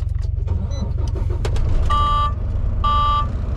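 A truck engine cranks and turns over amid a steady low rumble, with repeated dashboard warning beeps chiming twice during the attempt; close and loud.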